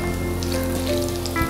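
Mixed vegetable pakoras deep-frying fully submerged in oil in a pan, a dense continuous bubbling sizzle, loud and close, with a low steady hum beneath.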